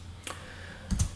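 Two quick keystrokes tap on a computer keyboard while a file is being created in a Linux terminal on a Jetson Nano, a faint click, a short pause, then a slightly louder double tap.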